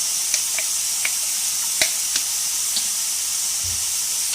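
Steady frying sizzle and hiss of vinegar, soy sauce and chili sauce in a hot pan with vegetables, with a few light clicks of stirring, close and continuous with no talk.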